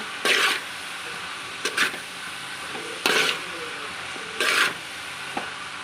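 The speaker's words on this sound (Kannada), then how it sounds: "ಕಟ್ ಮಾಡಿಕೊಂಡಂಥ ಹೀರೆಕಾಯನ್ನು ಹಾಕಬೇಕು ಹಾಕಿ ಮಿಕ್ಸ್ ಮಾಡಬೇಕು ಚೆನ್ನಾಗಿ ಮಿಕ್ಸ್ ಮಾಡುವ" Chopped ridge gourd frying in a pan for a palya, with a steady low sizzle broken by four loud scraping stirs of a spatula against the pan, spaced a second or so apart.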